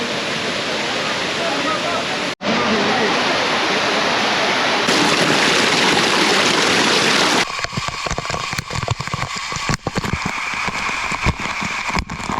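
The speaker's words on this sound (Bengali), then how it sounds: "ঝর্ণায় যাচ্ছি।" A waterfall in Sylhet, Bangladesh, in the monsoon season, roars as a steady, loud broadband rush, then shifts partway through to a rougher, more broken texture of pouring water.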